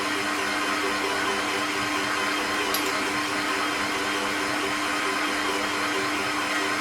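A Kenwood electric food mixer runs steadily and loud at home while devil's food cake batter is mixed, a constant whirring motor hum with no talking.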